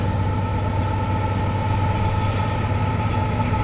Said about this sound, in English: this train rolling through right here looks almost fake